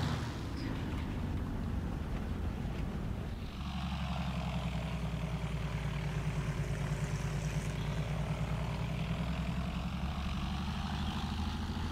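A PBY Catalina flying boat in War Thunder drones with a steady propeller engine hum that drops in pitch and settles lower as the throttle is cut, continuing evenly and close.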